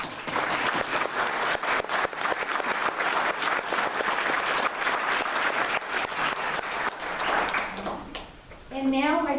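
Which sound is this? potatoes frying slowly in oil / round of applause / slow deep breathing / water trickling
round of applause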